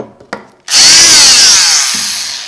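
A RIDGID JobMax multi-tool switches on after a couple of faint clicks and runs loud and steady with a high whine, spinning up from zero almost instantly and easing slightly as it continues, with no talking.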